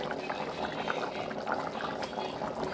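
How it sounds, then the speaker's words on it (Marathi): Chole (chickpea curry) boiling in a pot: a steady, soft bubbling and simmering that stays even and fairly quiet throughout, with no talking. "हे बघा, छान अशी उकळी आलेली आहे"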